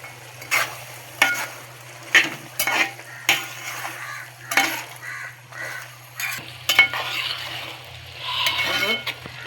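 A spoon stirring food with salt in a pan, repeated scraping and clinking strokes at an irregular rhythm over a faint sizzle and steady hum, close and moderately quiet.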